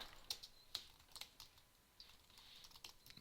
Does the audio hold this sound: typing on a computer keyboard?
yes